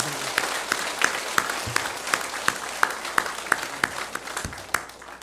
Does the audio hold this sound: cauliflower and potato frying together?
no